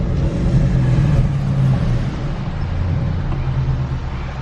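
A Ford Mustang with the 5.0 Coyote engine and open exhaust cutouts rumbles deep and loud, holding a steady throaty idle-to-rev drone close by with no talking.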